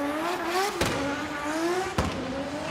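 A Toyota GR86 drift car, the Silk Blaze Sports N-Style build, screams at high revs during a Formula Drift Japan run at Okayama, its engine note climbing in two rising sweeps broken by sharp shift cuts, loud and close.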